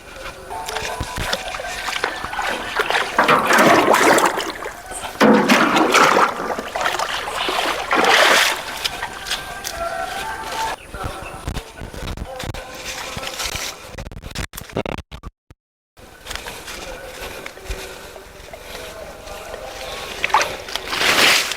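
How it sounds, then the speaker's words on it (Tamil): Water carried by shoulder is poured onto a spinach crop intercropped with cassava, giving close, repeated sloshing and splashing bursts while a person talks over it. "நான் இப்போது தோளில் சுமந்து தண்ணி கொண்டு ஊற்றுறேன்"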